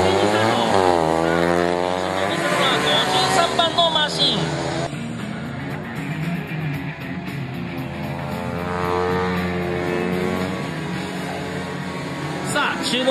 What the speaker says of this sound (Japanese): シグナルレッドから、グリーンへ、サブライダー一斉にスタート。